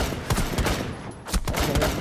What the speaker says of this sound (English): Shot you in the face twice